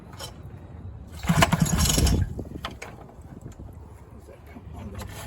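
A Game Fisher 3.0 outboard motor that had sat unused for a long time is pull-started, with a brief rattling mechanical burst of cranking that fades away, while someone talks quietly in the background.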